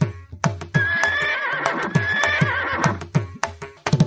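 Cartoon horses whinny loudly in a long, wavering neigh over steady, rhythmic hoof clip-clops, with a sharp burst of hoofbeats at the end; no talking.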